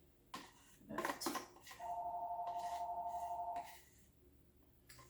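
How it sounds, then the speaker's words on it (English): A landline-style telephone rings in a home kitchen during no-bake pie preparation, one steady warbling electronic ring lasting about two seconds, set between clattering kitchen clinks and knocks. "the phone is ringing, but I will not answer it"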